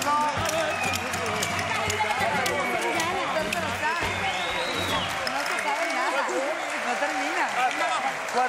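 Studio audience at a French TV variety show applauds a band playing at the Café Madrid set, a dense continuous wash of clapping and crowd noise with cheering voices mixed in throughout.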